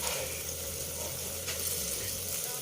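Cooked tomatoes being mashed in a sizzling pan, with steady, fairly quiet frying hiss throughout and low kitchen hum beneath.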